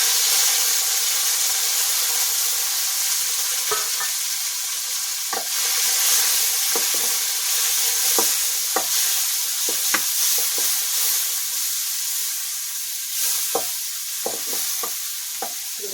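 Chopped bilimbi and curry leaves fry in a pan on a wood-fired stove, giving a loud, continuous close-up sizzle broken by sharp, irregular scrapes and taps of a spoon stirring against the pan.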